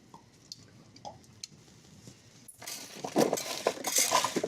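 Oil is drizzled over a lamb shoulder and carrots and parsnips in a pan. A few quiet drips and clinks come first, then a louder, splattering spatter of liquid close by.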